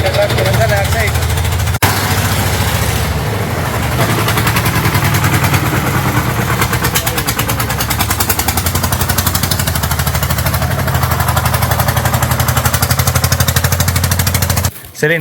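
A tractor engine runs close by on a steep street in an old Andalusian mountain town, a steady, loud, rough low rumble with rapid knocking that carries through nearly the whole stretch and cuts off at the end, with voices talking over it.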